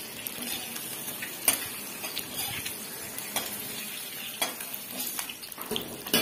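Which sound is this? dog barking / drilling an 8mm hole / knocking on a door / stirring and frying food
stirring and frying food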